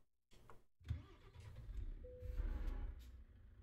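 A heavy truck engine in Euro Truck Simulator 2 starts up after a brief silence, then settles into a steady low rumble with a faint rising tone as it drives, no talking over it.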